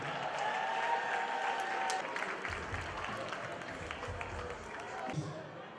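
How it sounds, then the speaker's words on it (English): Audience applause at a prize-giving event honouring the last woman standing, a broad crowd clapping that stays steady and fairly loud throughout, with a faint tone and voices mixed in underneath. "please, I think we should give a resounding round of applause to the last woman standing."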